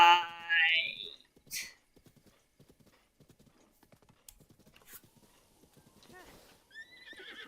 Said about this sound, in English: It is not safe to take a horse here.